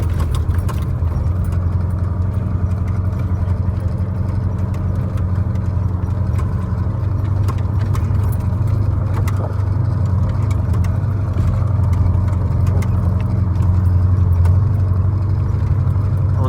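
A truck's engine runs steadily as it drives past a waiting queue toward the unloading pit at a sugar beet receiving site, a constant low rumble with faint rattles throughout and no talk.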